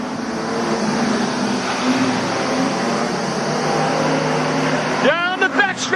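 Street stock race cars running the final lap at Carina Speedway, a continuous engine roar from the track under race commentary.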